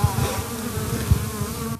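Wild bees drone steadily in old hollow-log hives of traditional forest beekeeping in a Zhytomyr-region village, a continuous close buzz with low rumbling bursts and no talking.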